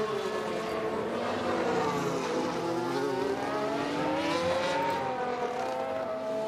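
Formula 1 car engines in F1 Manager 2022 at Bahrain, a continuous high-revving whine with several cars' tones rising and falling together, loud and steady with no talk.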